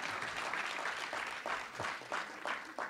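An audience claps in short, uneven bursts after a line in a State of the People 2020 speech, a brief scattered applause at moderate distance with no talking over it.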